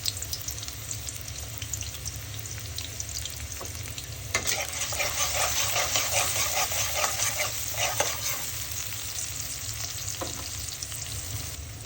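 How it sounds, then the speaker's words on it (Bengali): Chopped onions fry in hot oil for a mixed vegetable and large prawn dish, a steady close sizzle with stirring scrapes that grows louder and busier midway, then settles. "তেল গরম হয়েছে, পেঁয়াজ কুচি দিয়ে দিব।"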